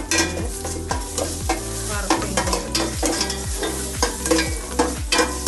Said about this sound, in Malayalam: എണ്ണയിലേക്ക് നമ്മൾ കറുവാപ്പട്ട, ഏലക്കായ, കാറാമ്പൂ ഇതൊക്കെ ഇട്ട്